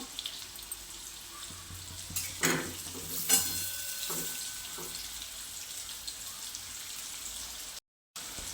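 Masala being stirred into stuffed bitter gourd in a pan, with soft scraping and a few sharper spoon knocks over a steady low sizzle.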